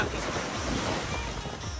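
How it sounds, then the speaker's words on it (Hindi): Sea surf at RK Beach in Visakhapatnam, a steady broad wash of waves with some wind rumble on the microphone, constant and fairly close. "समुद्र है बेटा, समुद्र।"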